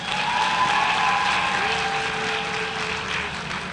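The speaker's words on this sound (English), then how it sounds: "Let's pause and give ourselves a well-deserved round of applause." Graduates of Jamaica's teachers' colleges applaud themselves at their graduation ceremony, a dense, steady wash of clapping from a large crowd that holds its level for nearly four seconds, with faint cheering mixed in.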